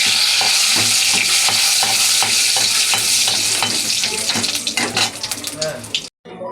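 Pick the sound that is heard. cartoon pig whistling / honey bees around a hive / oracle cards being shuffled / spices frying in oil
spices frying in oil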